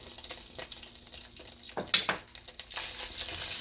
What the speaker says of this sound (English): Now I'm going to go ahead and quickly put in my dry red chilies.